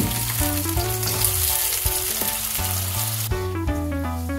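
Potatoes cooking in a covered pan on low heat give a steady, soft sizzle that runs under a prominent melodic music track for the whole stretch.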